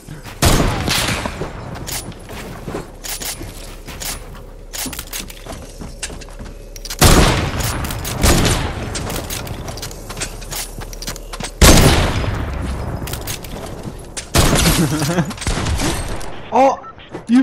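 Gunfire in Fortnite, including shotgun blasts, comes as several sharp, loud bursts spread across the stretch, with dense crackling volleys and booms, and people talking in between.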